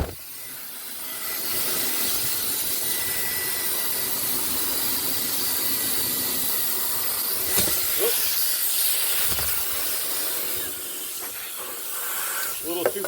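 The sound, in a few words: mini leaf blower blowing chaff off roasted coffee beans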